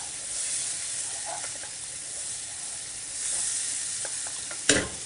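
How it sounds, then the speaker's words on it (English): Food frying in a pan with a steady bright sizzle, light stirring taps, and one sharp scrape near the end. "You can see that really frying off beautifully now."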